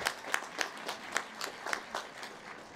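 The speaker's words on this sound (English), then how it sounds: "Let's give them all a round of applause." A crowd applauds graduates at the 2021 Clark College commencement, a steady patter of many hands with a few sharper claps standing out, fairly distant and filling the whole stretch without talk.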